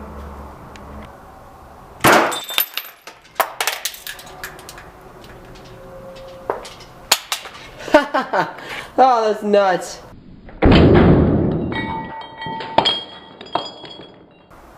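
A glass soda bottle shatters loudly after being struck by a ruby laser beam, a sharp crash with ringing clinks and tinkling fragments, surrounded by close excited talk.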